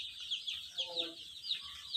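Chicken chicks in a brooding house on a poultry farm with about 1100 birds, giving repeated high thin cheeps in a quick irregular series over low background hum, moderately near.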